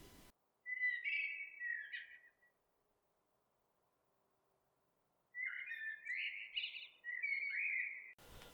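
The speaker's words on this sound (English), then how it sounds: "When you hear the blackbird singing" A blackbird sings two fluting, warbling phrases separated by a few seconds of quiet, clear and fairly close against a still background.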